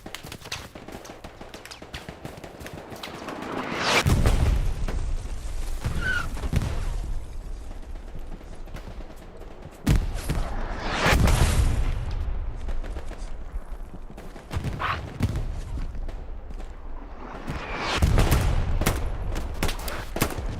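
Gunfire and explosions in the Hell Let Loose video game, Hurtgen Forest map, with bursts of rifle and machine-gun fire clustered at several points, loud sharp reports over a continuous battlefield rumble, no talking.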